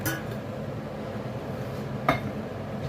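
A spoon scrapes thick homemade women's shaving soap from a container, giving soft clinks and scrapes over quiet room noise, with one sharper clink near the end.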